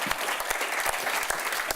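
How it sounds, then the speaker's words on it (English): Brisk applause from an audience, dense overlapping claps at a steady level for the whole short stretch. "I think they deserve an applause"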